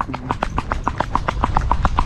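Hooves of a young mixed-breed filly clip-clop in a steady, quick rhythm, about a dozen sharp strikes in two seconds, close and fairly loud over low background rumble.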